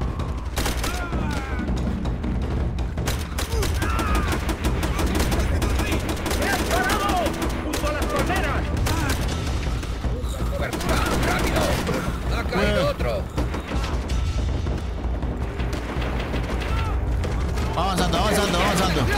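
Dense, nonstop gunfire from the Call of Duty: World at War video game, with rapid automatic bursts, booms and mechanical clatter. Shouting voices from the game are mixed into the loud firefight throughout.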